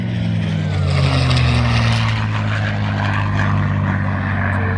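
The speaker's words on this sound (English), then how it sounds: "This is the P-51D, the major production version." A North American P-51D Mustang piston-engine fighter flies past at an airshow, its loud, steady propeller drone holding with a sustained engine roar throughout.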